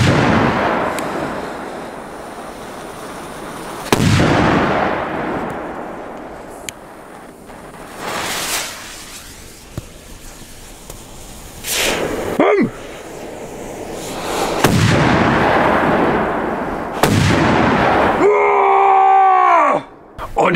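Polish firecrackers (Polenböller) going off, with several sharp loud bangs followed by rumbling roars and long echoing booms, plus shouting voices and a squealing whistle near the end.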